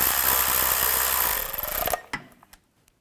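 A power tool whirs steadily while a bolt is snugged down during starter replacement on a 2003-08 Chevy Tahoe, then winds down into a few close clicks and taps before silence.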